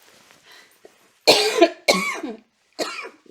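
Three harsh, close coughs in a row, each a short rough burst, with a faint quiet murmur before them.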